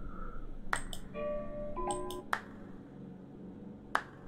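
A teddy bear in the video game Happy Game claps several times, crisp single snaps spaced irregularly, mixed with a short run of chiming electronic tones in the middle.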